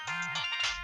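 A mobile phone rings with a short electronic melodic tone, heard briefly in an indoor scene from a Pakistani drama.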